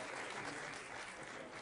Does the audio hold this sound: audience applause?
yes